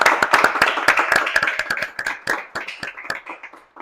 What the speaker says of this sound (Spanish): un aplauso por favor de todos